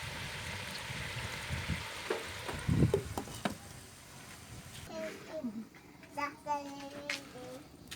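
Caesar's mushrooms sizzling in hot oil with onion, a crackling fry that starts softly and grows steadier, with a spoon stirring and a voice chattering over it partway through.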